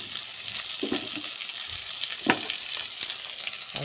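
Chopped onion and chili frying in a pan with half-cooked tomato for chili chicken, giving a steady close sizzle with a few sharper crackles, alone with no voices.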